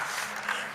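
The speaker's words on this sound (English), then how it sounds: "I think he deserves a big round of applause" An audience applauds the winner of a car race at the AFRIKAPRO 2024 final, a brief, steady wash of clapping heard from a short distance with no voices over it.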